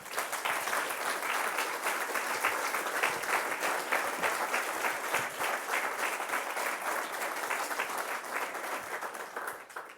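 Sustained audience applause at a ceremony for an inclusive village project, a dense, even wash of many hands clapping for about ten seconds, fairly distant and soft, tapering slightly at the end.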